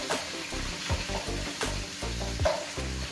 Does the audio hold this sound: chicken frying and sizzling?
yes